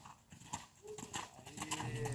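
Horse hooves clip-clop in a steady rhythm during riding training, moderately near, with voices talking over them.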